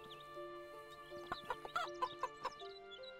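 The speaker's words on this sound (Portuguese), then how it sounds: "Ó, o galo." A rooster in the game Russian Village Simulator, giving a short burst of clucking calls in a quick rhythmic series, quiet and close, over a faint steady tonal background.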